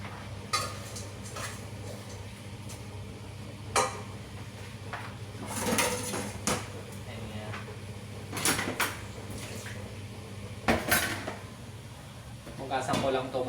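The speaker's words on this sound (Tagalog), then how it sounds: "Hugasan ko lang to mga pinaggamitan ko." Used dishes, pots and cutlery clatter and clink intermittently while being washed, with scattered knocks and scrapes over a steady low hum and a person talking now and then.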